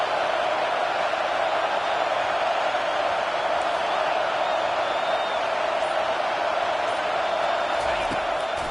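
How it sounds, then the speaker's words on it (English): A college football stadium crowd roars on a defensive third down, a dense sustained wall of noise with whoops and whistles mixed in, loud and continuous throughout. "Decibels rising as the crowd gets behind this defense on third down"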